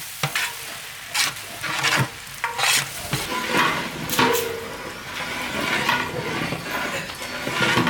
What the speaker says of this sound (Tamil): அது கூட தக்காளி சேர்த்துக்கலாம் நல்லா கலந்து விட்டுக்கலாம்